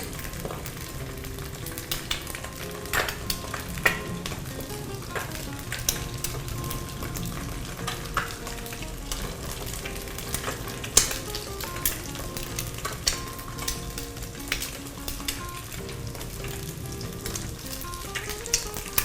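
An egg fries in a pan beside a sautéed vegetable mixture, giving a steady close sizzle with scattered pops and crackles throughout and no talking.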